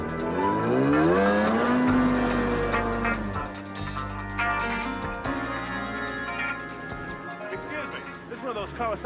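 A Kawasaki 440 engine revs loudly and close, its pitch sweeping up and falling back with a tire-like squeal, while voices talk over it.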